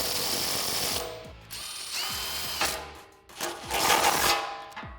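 A ratchet with an 18mm socket tightens the bolts of a Deegan 38 rear bumper on a Jeep Wrangler JL, giving rapid bursts of clicking in several short runs separated by pauses, close and clear.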